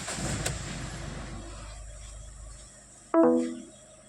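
A Ford EcoSport diesel car starting up with a short, loud starter crank and engine catch near the end, after a quiet stretch of low idle-like hum.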